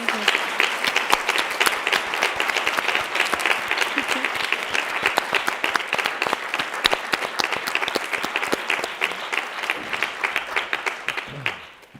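An audience claps steadily and loudly for about twelve seconds, a dense crackle of many hands with sharp individual claps standing out, fading at the very end.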